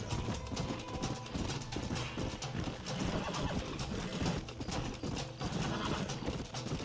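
Horses gallop with loud, rapid hoofbeats clip-clopping steadily throughout, forming a dense, continuous clatter with possible neighing mixed in.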